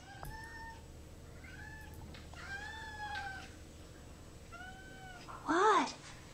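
A pet cat in a room full of toys and enrichment meows several times, fairly quiet and spaced out, with a louder, sharper meow near the end and light room noise underneath.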